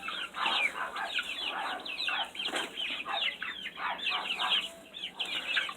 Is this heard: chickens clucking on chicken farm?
yes